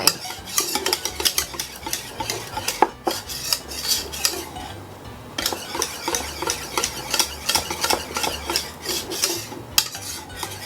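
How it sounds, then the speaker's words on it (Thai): A utensil scrapes and clinks steadily against a bowl as chocolate is gently stirred while it melts for truffles, a continuous close rhythmic swishing with a brief pause midway and a low hum underneath. "คนอย่างนี้นะคะคนเบาๆ คนแค่แบบให้พอช็อกโกแลตละลา"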